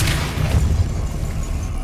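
Depulso force spell cast in the video game Hogwarts Legacy: a deep, booming low thump with a rolling rumble that holds steady through the moment, loud and close with no talking.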